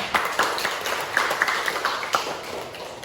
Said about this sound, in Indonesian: tepuk tangan kanan